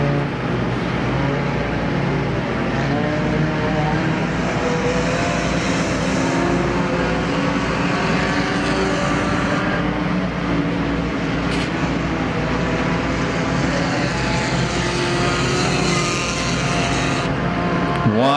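IMCA Sport Compact race cars roar around the dirt oval at Perris Auto Speedway during the main event, a loud continuous blend of engines rising and fading as cars pass, with no voices heard.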